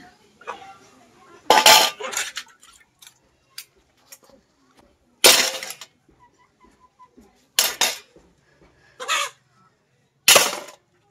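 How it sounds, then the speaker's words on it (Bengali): Dishes, pots and metal plates being washed outdoors in a village home, with repeated loud clattering and clinking bursts spaced a few seconds apart, scraping sounds between them and chickens clucking faintly nearby. "এখানে সবগুলো থালা বাসন নিয়ে বসে গেছে ধোয়ার জন্য"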